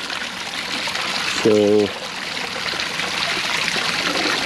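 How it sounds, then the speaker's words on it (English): A stream of water runs steadily over ground on a farm while a high tunnel is prepared for growing, a continuous trickling hiss with a man's brief spoken word partway through. "I need to direct the water over it."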